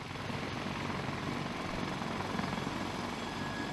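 A Sikorsky CH-53K heavy military helicopter is heard at a distance as a steady, faint rotor and turbine wash, a broad continuous rumble with no talking.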